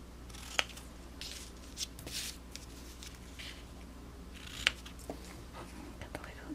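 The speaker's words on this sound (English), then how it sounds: "And then I'll just cut the ends." Scissors snip the ends of thread in a couple of sharp, close clicks spread over a few seconds, against low background hum and faint rustling.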